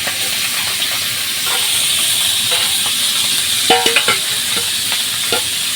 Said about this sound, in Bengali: এখন দেশি মাছ রান্না করা হচ্ছে আপনি দেখতে পাচ্ছেন